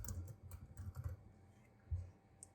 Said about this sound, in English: Now in the search, type environment variables